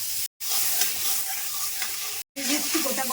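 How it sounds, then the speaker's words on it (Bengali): Butter melting and sizzling in a kadai, an even crackling hiss throughout, cut by two brief silent gaps. "কড়াইতে বাটারটা দিয়ে দিচ্ছি"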